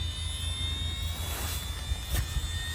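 Promoto MX electric RC motorcycle motor whines as it spools up, a steady high-pitched turbine-like tone with a low rumble underneath, close and continuous with a couple of brief surges.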